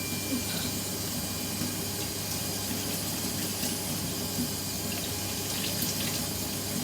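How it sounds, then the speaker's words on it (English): Running water pours steadily while dyed hair is rinsed under a tap, a continuous broadband splashing hiss that stays even and close throughout with no talk. "I'm thoroughly rinsing."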